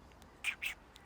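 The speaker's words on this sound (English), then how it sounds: "noise you're hearing is magpies" Magpies call with two quick, harsh chattering notes close together, fairly faint against a quiet background, followed by a softer trailing chirp.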